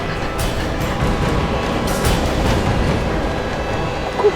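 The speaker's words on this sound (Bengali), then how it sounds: "খুব জোরে আসছে ট্রেনটা।" A train thunders past close by in a steady, broad roar that holds for about four seconds, with a brief sharp clank near the end.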